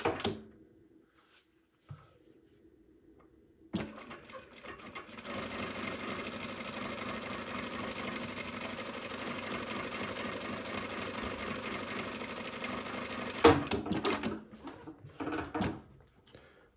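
A JUKI DDL-900C industrial sewing machine runs a steady, loud stretch of stitching at 5mm stitch length with a few reverse stitches, starting abruptly after quiet handling noises and stopping with a clunk before brief clatter.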